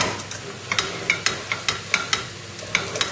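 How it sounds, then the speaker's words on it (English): A spoon stirs flour into onions in a pan as they gently sizzle, giving a steady run of soft scraping and clicking strokes at a close, even pace, with no talk. "And then we just give this a stir."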